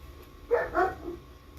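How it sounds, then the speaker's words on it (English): Dog barking indoors a short way off, two or three quick barks followed by a softer trailing yip, over a quiet room. "That's my dog barking."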